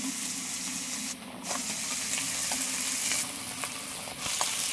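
Shrimp sizzling and frying in a hot pan with turmeric powder, a steady loud crackle throughout with a brief dip in the middle and faint scattered pops, no voices.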